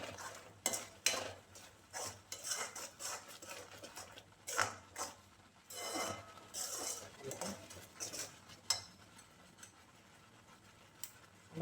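Bottle gourd halwa stirred in a pan, faint irregular scrapes and clinks of a spoon against metal with a low sizzle and a little quiet talk.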